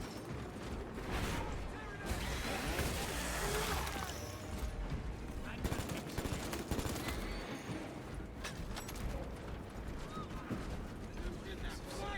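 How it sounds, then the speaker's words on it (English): Bolt pistol fire in the video game Space Marine 2, rapid overlapping shots and heavy battle din under a constant roar of combat, with explosions mixed into the chaos. "I know I'm using the regular bolt pistol here"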